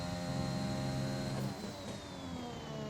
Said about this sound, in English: That is when the traction control is kicking in.